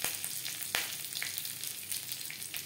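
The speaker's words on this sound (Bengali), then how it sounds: "কারি পাতা সাবধানে ভাজতে হবে," Curry leaves hit hot oil where garlic has been frying over a low flame for kadhi pakora. They sizzle steadily with sharp crackling pops, close up and with no talking.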